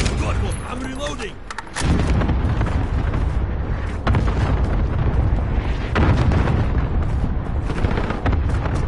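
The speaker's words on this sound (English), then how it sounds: "Enemy cluster strike incoming." Cluster strike explosions in Modern Warfare roll on as a dense, loud barrage of booms and rumbling blasts that barely lets up, with faint voices mixed into the din.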